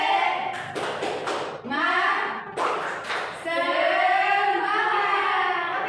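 Elementary schoolchildren in a fifth-grade classroom perform the 'tepuk semangat' spirit-clap routine: bursts of sharp group clapping in patterned sets alternate with loud chanted children's voices, close and lively throughout.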